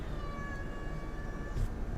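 A pet cat named Neo meows once in a short, clear, near tonal call, with faint room noise around it and no talking.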